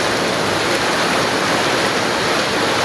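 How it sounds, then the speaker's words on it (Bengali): Heavy rain pours down with stormy wind, a loud, dense, unbroken hiss of falling water that stays even and close throughout, with no voices. "প্রচুর বৃষ্টি হইতেছে"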